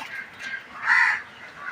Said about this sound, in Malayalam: ലൈവൊക്കെ വരുമ്പോൾ ഉണ്ടല്ലോ കാക്കയുടെ സംസ്ഥാന സമ്മേളനമാണെന്ന് ചോദിക്കുന്ന കാക്ക ശല്യമുണ്ട്